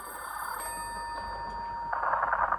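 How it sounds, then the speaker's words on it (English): An old-fashioned telephone bell rings continuously in an interior scene of a Doctor Who drama, its tone steady and then growing louder and brighter in the final second, with no voices over it. "What am I supposed to do with a ringing phone?"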